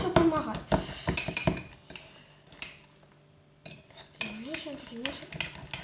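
Spoon stirring a sugary home cough-remedy mixture in a dish, a series of quick scraping clinks coming in short bursts, with someone talking over parts of it and a quiet pause midway.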